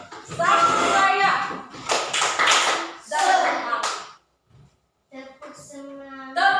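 A sixth-grade class stands and does a rhythmic clapping cheer, with sharp bursts of claps in short patterned groups alternating with children chanting together. There is a brief pause partway through before the chant resumes.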